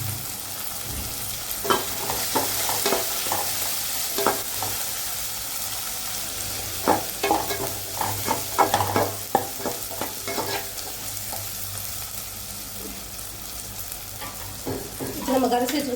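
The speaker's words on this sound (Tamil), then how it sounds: "இந்த எண்ணெயோட போட்டு வதக்கிக்கலாம்." Leftover chickpea sundal sautéed in oil in a home kitchen, with a steady low sizzle under repeated scraping and clattering stirs of a spoon against the pan, busiest in the middle and ending with a louder flurry.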